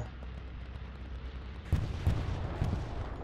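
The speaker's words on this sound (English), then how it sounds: "That is a good bombing run" Explosions from a bombing run in a multiplayer war game, three heavy booming blasts arriving in quick succession over a low rumbling ambient bed, each one a sudden loud thump with a rolling tail.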